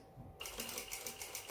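Someone stitches a back tack on a pair of pants, and the sewing machine starts abruptly into a quiet, fast run of even needle clicks that lasts about a second before stopping.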